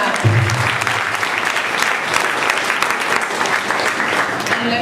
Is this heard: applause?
yes